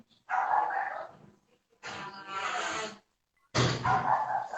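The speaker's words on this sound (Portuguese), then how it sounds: "A cachorra latina não estava no roteiro, não." A female dog barks loudly and close in three separate bursts with short pauses between, intruding on a live broadcast.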